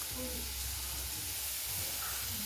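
Chopped onions frying over a lowered gas flame and stirred in a pan for a home-style sprouted moth bean curry give off a steady, soft, continuous sizzle and hiss at low volume, with no voices.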